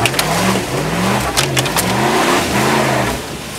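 A Dodge Durango off-roading, its engine revving repeatedly in loud, close bursts that rise and fall in pitch, with no voices over it.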